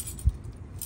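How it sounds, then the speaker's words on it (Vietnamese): A Subaru WRX 2022 smart key jangles once, a brief soft metallic clink near the mic in an otherwise quiet moment, with no talking. "Thì cái chìa khóa nó cho như thế này nè các bạn."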